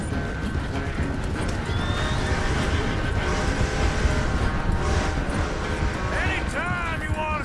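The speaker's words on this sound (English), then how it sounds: "O cavalo dele é rápido." A horse's hooves pound in a steady gallop in Red Dead Redemption 2, close and continuous, ending in a loud whinny near the end.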